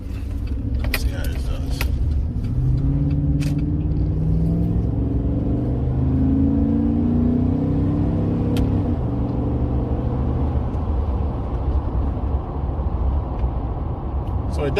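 A 2013 GMC Sierra pickup truck on a test drive, its engine droning and rising in pitch as it accelerates, with a steady road rumble throughout and a few brief clinks early on.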